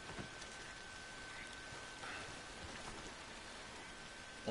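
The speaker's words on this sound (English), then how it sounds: "Nice little rain." Soft, steady rainfall in Red Dead Redemption 2 Online patters on a surface, a quiet continuous hiss with a faint high tone running underneath.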